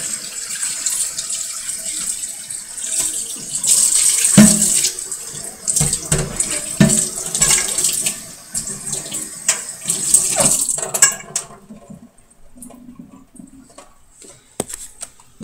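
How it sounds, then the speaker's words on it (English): A pan being rinsed under a running kitchen tap, steady splashing water for about eleven seconds before the flow stops, leaving a few faint drips and clinks. "Just rinse this pan out."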